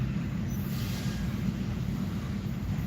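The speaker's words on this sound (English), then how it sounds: "about time that train started moving." A steady low rumble of a train rolling along the tracks, continuous and moderately loud with a faint high whine, no speech heard.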